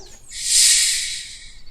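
A snake hisses in one smooth, airy burst that swells and fades over about a second, alone and fairly close.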